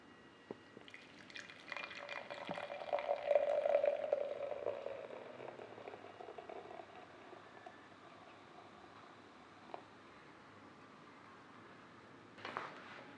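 Dark beer, a black stout, poured into a glass in a reverse pour, heard as a soft gurgling, trickling stream that builds over several seconds and then fades, with a few faint clinks near the end.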